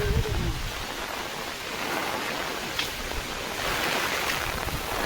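Heavy rain falling in a wooded countryside storm with strong gusting wind, a dense continuous hiss and rush that swells and eases, fairly loud and close.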